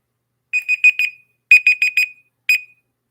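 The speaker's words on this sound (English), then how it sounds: "That is a beep, beep, beep time." Electronic timer alarm sounding at the close of a live trivia round: three bursts of rapid high beeps, four, four, then one, each group a crisp, loud chirping pattern with short silent gaps between.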